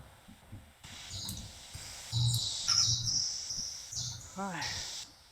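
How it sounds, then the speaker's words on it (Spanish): A small bird sings faintly in the background during an online call, with short chirps and a quick trill standing out against low voices. "Se escucha un pajarito en el fondo."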